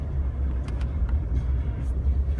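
Jeep Wrangler creeping along at about 20 mph through the 2015 Juno blizzard in Plymouth, MA, a steady low engine and road rumble heard from inside the cabin, with faint ticking and whooshing above it.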